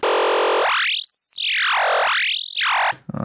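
A lower-pitched buzzy FM Pulse wavetable synth tone in Arturia Pigments, one octave down, rises and falls in slow, repeating sweeps, loud and unaccompanied, ending suddenly.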